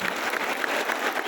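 A lecture audience claps together at a spiritual talk for students, a dense, steady patter of many hands running through the whole moment at moderate loudness.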